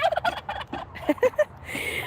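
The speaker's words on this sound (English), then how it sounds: "that chirping is a female turkey, by the way" A female turkey chirps in a run of short, bright calls, close and fairly loud, ending in a brief burst of broader noise.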